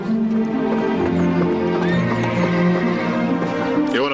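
A horse whinnies in long, wavering calls over steady clip-clopping hooves, fairly close and loud, with people's voices mixed in underneath.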